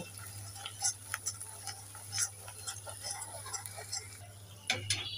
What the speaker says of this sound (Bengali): এরপরে দিয়ে দেব হলুদ গুঁড়ো, একটু নেড়ে চেড়ে দিয়ে দেব